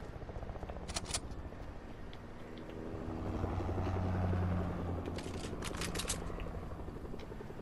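A video-game helicopter whirs and drones, its rotor hum swelling to a peak in the middle and easing off, with sharp clicky bursts scattered over it.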